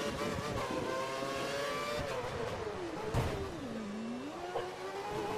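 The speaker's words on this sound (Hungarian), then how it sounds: "Elmegy az egész mezőny." F1 race cars roar past in the F1 2013 video game at the Austin circuit, engines droning and whining together, pitch sweeping down and back up as the field goes by.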